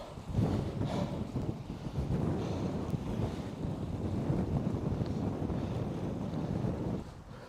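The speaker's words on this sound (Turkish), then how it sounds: "rüzgar şaka gibi şu anda" Strong wind roars steadily across the microphone during an outdoor run in Victoria, a constant loud rumbling buffet with no pauses and no voices.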